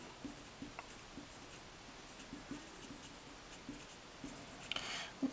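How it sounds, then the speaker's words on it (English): A pen or pencil scratching out an isosceles triangle on paper, with quiet short strokes and light ticks at close range in a hushed room. "I am going to have you draw an isosceles triangle"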